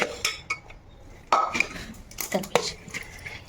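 Rice mixed in a pot makes clattering scrapes and clinks of a spoon against metal, irregular and close, with quiet pauses between the strokes.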